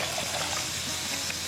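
Water pours into the radiator of an overheated mini jeep at 105 degrees Celsius, a steady close trickling splash running without a break and without talk.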